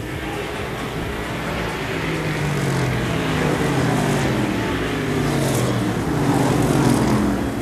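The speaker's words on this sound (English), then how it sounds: "Eddie Whitcomb's got himself a fast race car, throwing it in hard into turn number 3" Race cars on a short track speedway roar together in a dense, loud, continuous engine drone that swells and fades as they circle, with a faint voice underneath.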